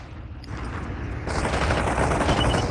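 Gunfire in a shooter video game in a Metropolice scene, a dense sustained burst of rapid shots that grows louder and closer midway and keeps rattling to the end.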